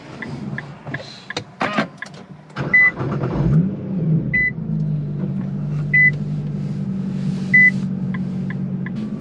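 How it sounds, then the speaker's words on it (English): A car with a Stage 1 Cobb tune is started: clicks and a short cranking burst, then a low idling hum settles in, with regular chime beeps sounding repeatedly over it. "I'm gonna try starting the car up now and seeing what happens"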